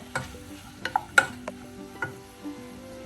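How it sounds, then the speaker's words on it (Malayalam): Chicken liver sautéing on a low flame with pepper, a faint sizzle under a handful of sharp, spaced clicks and scrapes of a spoon against the pan, quiet and close with no talking. "ലോ ഫ്ലെയിമിൽ ഒന്ന് വഴറ്റി ഇടയ്ക്കൊന്ന് ഇളക്കി കൊടുത്തിട്ട്"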